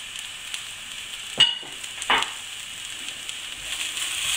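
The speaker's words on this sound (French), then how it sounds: "Je vais rajouter donc mes 2 gousses d'ail. Et là, on est parti pour environ 1 minute." Onions and garlic cloves sizzle steadily in a hot pan for a Provençal vegetable flan, a soft continuous hiss broken by two sharp clicks of stirring; no one speaks.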